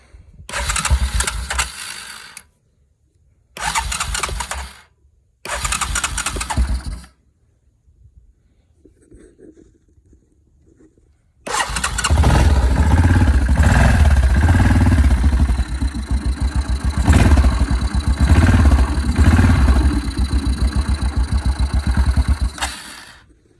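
2004 Yamaha Kodiak 400 ATV fitted with a Tang carburetor: three short cranking bursts separated by pauses, then the engine catches and runs loud and steady, idling close by for the rest.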